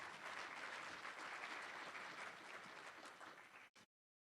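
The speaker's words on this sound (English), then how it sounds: "So a big round of applause for Navneet once again" A conference audience at TiEcon SoCal 2023 claps in a steady, dense round of applause that holds for several seconds, then cuts off abruptly into silence.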